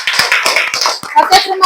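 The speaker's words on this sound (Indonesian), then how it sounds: "Tepuk tangan untuk kelompok" Students in a classroom clap for a group that has just finished a science experiment, a short burst of hand claps with voices mixed in.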